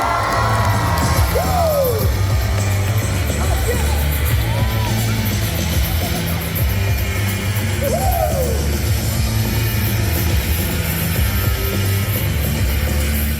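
Baseball fans in a Korean stadium cheer and applaud at a Samsung Lions game, making a steady, loud crowd roar with scattered whoops, whistles and yells throughout.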